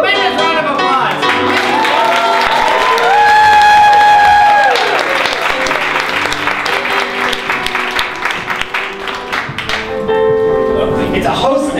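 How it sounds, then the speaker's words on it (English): A theater audience gives loud, sustained applause to welcome a guest at a public policy show, with music playing over the clapping and a voice coming in near the end. "Ladies and gentlemen, please, a tremendous round of applause."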